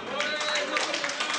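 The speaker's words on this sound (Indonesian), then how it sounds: "Tepuk tangan dulu untuk 76." Short burst of audience applause for a candidate, a quick steady patter of many hands clapping with faint voices underneath.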